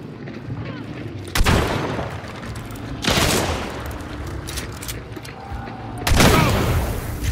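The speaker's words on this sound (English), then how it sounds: "Traded shots with her" Heavy gunfire exchanged in the game Hunt: Showdown, three loud, booming shots spaced a couple of seconds apart, each trailing off in a long rumbling echo.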